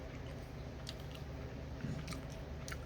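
Sugar-coated dried mango slices are chewed close up, with soft, repeated crunches of the sugar coating over a low background hum.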